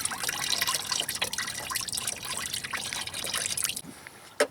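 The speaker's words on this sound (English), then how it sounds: "since I'm draining my antifreeze" Antifreeze draining from a Ford Taurus 3.0 V6 engine, a steady close trickle and splatter of liquid running continuously into a container, with a brief knock near the end.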